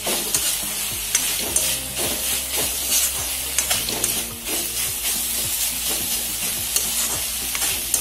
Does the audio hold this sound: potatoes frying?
yes